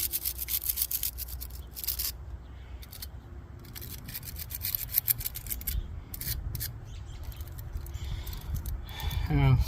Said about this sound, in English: I'm just going to clean the corrosion out of there.